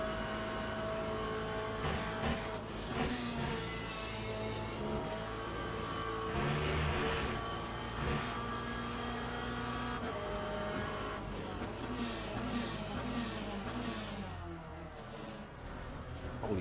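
A BMW GT3 race car engine roars at Monza in the Le Mans Ultimate racing game, holding a sustained high-revving drone with gear shifts and rising and falling pitch, loud and continuous with no talk.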